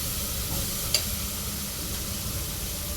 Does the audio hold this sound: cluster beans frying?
yes